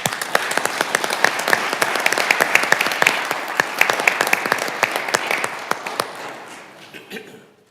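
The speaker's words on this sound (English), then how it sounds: "If you could join me in a round of applause." Round of applause in a city council chamber, many hands clapping steadily with crisp individual claps standing out, then thinning and fading away at the end.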